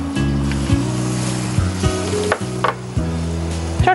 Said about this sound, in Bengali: আমি এটা একটু বাটার দিয়ে ভাজবো